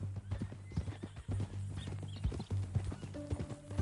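Steady clip-clop of horse hooves on hard ground in the video game Red Dead Redemption 2, with an occasional snort, close and continuous, layered with a low droning hum.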